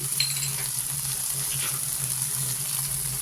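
Softened tomato masala with coriander powder fries in a pan for egg curry, a continuous close sizzle with faint stirring scrapes, fairly quiet and with no voices.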